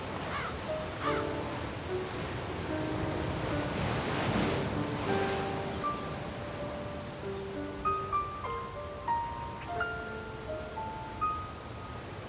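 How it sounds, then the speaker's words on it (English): Ocean waves crash and wash continuously on a rocky shore with wind gusting, from the Wii game Agatha Christie: And Then There Were None, while soft musical notes and an occasional distant crow caw sit over the surf. "The waves are crashing here with particular violence."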